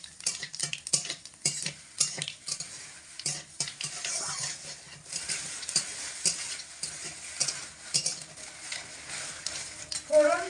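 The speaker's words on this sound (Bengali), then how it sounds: "ফোড়নটা হালকা একটু নাড়াচাড়া করে ভেজে নেব।" Whole cinnamon, cardamom, clove and nigella seeds fry in hot oil as a tempering for a vegetarian papaya, potato and moong dal dish. A steady close sizzle runs throughout, broken by frequent scraping clicks of a spoon stirring in the pan.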